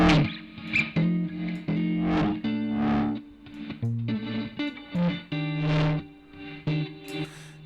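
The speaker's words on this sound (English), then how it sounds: "you can hear it swelling that distortion in quarter notes" Tritik Krush distortion plugin on a wet-only signal, swelling rhythmically in quarter notes over a distorted harmonic tone, with pulsing buzzy swells rising and falling in steady beats, no talking.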